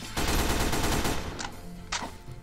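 SMG fire in a Roblox game: a dense, loud burst of rapid automatic shots lasting about a second, followed by quieter scattered pops and two short sharp bursts.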